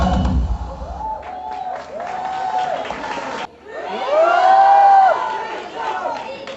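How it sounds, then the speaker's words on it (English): A crowd of young people cheers and shouts at a college festival dance performance, a loud sustained roar that swells and falls, with whoops and a voice speaking over the noise. "Guys and girls are both cheering for you."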